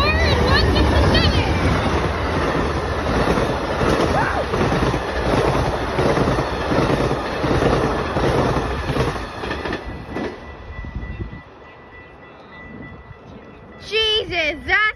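Passenger train number Seven, westbound to Seattle, roars past at speed, loud and close with rhythmic wheel clatter and wind buffeting, then fades out abruptly as excited voices break in near the end.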